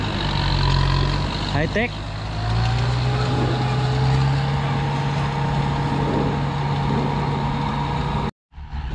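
A tractor drones steadily while pulling a corn seeder planter across a field, a continuous low engine rumble with a shifting tone, as people talk over it.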